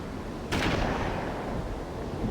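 A single sharp gunshot rings out while hunting in a video game, followed by a fading reverberant tail over quiet ambient background.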